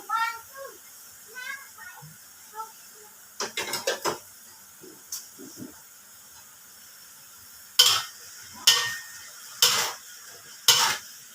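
A metal spatula clatters and scrapes in a wok stir-frying Chinese kale with pork belly and oyster sauce, ending with four loud, evenly spaced scraping strokes.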